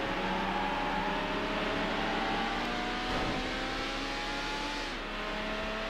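A high-revving V12 engine from the racing game Need for Speed: Hot Pursuit 2 holds a sustained, steady drone with a slight dip near the end, loud and continuous with no voices.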